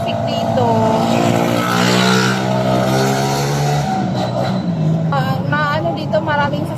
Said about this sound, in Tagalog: Dito maraming sasakyan dito sa highway kasi ito yung pinaka-highway ng Butuan